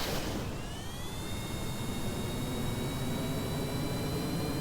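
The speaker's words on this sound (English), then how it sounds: "SAS on, throttle up, and we'll see just how wacky this is" A rocket engine in Kerbal Space Program throttles up at liftoff, producing a steady, loud roaring rush with a rising whine that settles into a sustained tone.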